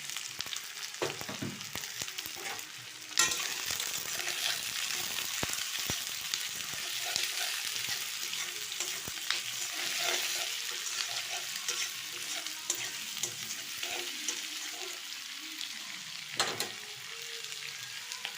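Chopped onion sizzles in a pan with slit green chillies for a chicken curry, a continuous moderate frying hiss with frequent spatula scrapes and stirring taps, and no voices.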